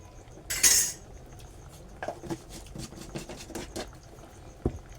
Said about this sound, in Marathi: ती पण आपण ढवळून घेऊ त्याच्यात पुन्हा